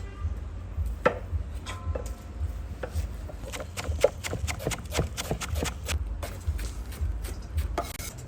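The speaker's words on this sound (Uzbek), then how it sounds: "men piyoz to'g'rayveraman." A knife chops onion on a board in a run of sharp, irregular taps, some quick and clustered and others spaced out, heard close over low background murmur.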